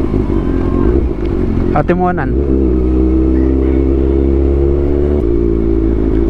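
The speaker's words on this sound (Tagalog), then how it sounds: "Busy itong motor natin, no? Yung pipe natin." A motorcycle's exhaust pipe drones steadily and loudly while riding on a road trip toward Atimonan, a constant buzzing engine note with a short rattling burst, and someone speaks briefly over it.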